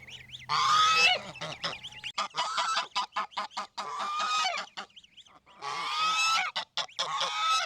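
Loud, raucous honking from several geese close by, coming in dense bursts with brief gaps between calls.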